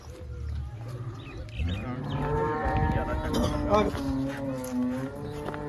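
A cow at a Punjabi farm selling dairy animals lets out a loud, long, drawn-out moo that carries through most of the moment, while people talk nearby.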